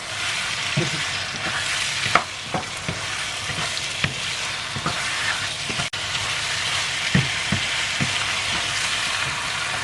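Food being stir-fried in a pan, with continuous sizzling and a scraping, clattering spatula knocking out irregular stirring strokes, close and steady, with no talking.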